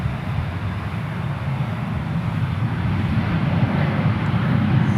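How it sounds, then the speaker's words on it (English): A departing airliner bound for Denver from DFW Airport gives off a broad, steady jet roar at a distance that slowly swells louder over a few seconds. "That flight right there going to Denver"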